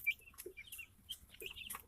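Chickens drinking from a nipple bucket make soft, close clucks and chirpy calls in a few scattered bursts against a quiet background.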